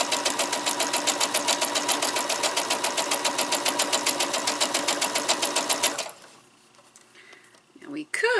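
A sewing machine stitches quilt pieces along a quarter-inch seam, a loud rapid rhythmic chatter for about six seconds that then stops, leaving quiet handling noise.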